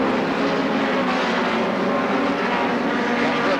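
A hot rod racing car at Brafield's 1984 oval meeting roars past on the circuit, a loud, steady, broadband engine blare filling the whole stretch without a break.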